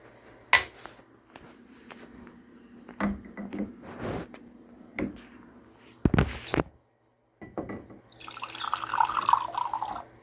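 Water from a tap runs and splashes into a container meant for chicks, arriving in short bursts with drips and handling clatter between them, then a steady hissing flow at the end.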